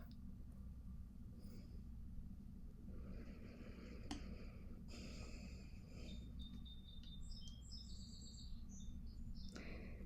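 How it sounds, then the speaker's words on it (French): Birds sing outdoors in a peaceful natural setting, with faint chirps and twittering phrases rising over a steady drone of crickets and low background rumble. "là je viens d'entendre les oiseaux, c'est tellement paisible"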